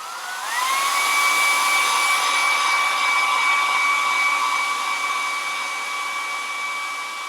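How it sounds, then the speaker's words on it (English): A hairdryer whirs steadily at close range, drying watercolour paint on a card, its motor pitch rising briefly at the start and then holding a constant high whine throughout. "I'm just going to dry that with a hairdryer"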